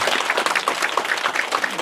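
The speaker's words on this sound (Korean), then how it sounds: "박수 한번 쳐주실래요?" An audience at a city mayor's town-hall meeting with citizens applauds steadily, the dense patter of many hands clapping at once, moderately loud and continuous without pause.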